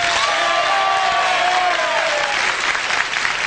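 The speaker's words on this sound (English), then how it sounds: "If you think Mike didn't do it," Steady, dense hand clapping from a comedy club audience fills the whole stretch, loud and close, with a faint crowd murmur underneath and no talking.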